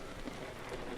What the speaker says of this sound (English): if I get out from under the rain clouds, I can get out of the rain.